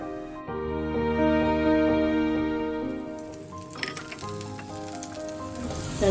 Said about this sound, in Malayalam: പാൻ ചൂടാക്കി അതിലേക്ക് കുറച്ച് വെളിച്ചെണ്ണ ഒഴിച്ചു കൊടുക്കാം.